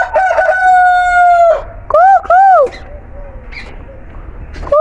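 A rooster crows loudly and close with a long drawn-out call, followed by a couple of shorter arched crows and quieter clucking sounds.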